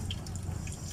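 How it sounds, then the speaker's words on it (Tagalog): Water spurts and drips from the air tank drain valve of a Mercedes-Benz Actros truck with a faulty compressor head, a brief close-up gurgling trickle over a low idling hum. "Ito, tubig yung lalabas doon sa valve niya."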